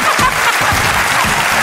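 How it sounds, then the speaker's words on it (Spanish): Studio audience applause on a Spanish television talk show, a dense burst of loud clapping that continues steadily throughout. "Un aplauso."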